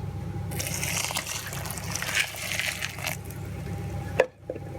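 Water pours into a pan holding black pepper, paprika and fried onions, a steady splashing trickle for a few seconds that stops with a clunk near the end.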